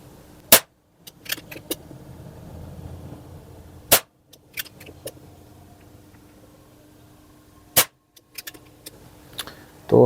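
Sharp shots from a Nova Vista Cobra PCP air pistol, four loud isolated cracks spaced a few seconds apart with faint mechanical clicks and handling noise between them.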